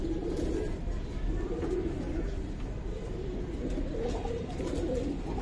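Giribaz and coloured pigeons coo in a steady low murmur, close and continuous, with several birds overlapping throughout.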